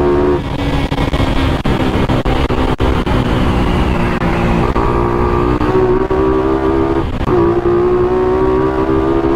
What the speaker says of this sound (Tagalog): Iniingal motor ko sa kakabol sa mga to ah.